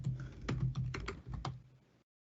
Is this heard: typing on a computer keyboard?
yes